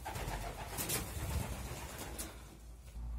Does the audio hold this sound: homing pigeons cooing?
yes